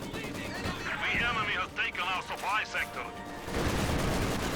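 Gunfire in the strategy game Company of Heroes 2, rapid bursts of shots mixed with a commentator talking over the battle.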